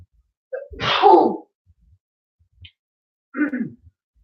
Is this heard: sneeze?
yes